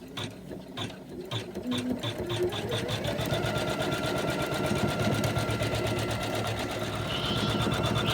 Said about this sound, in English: And the last in the ring area is being stitched.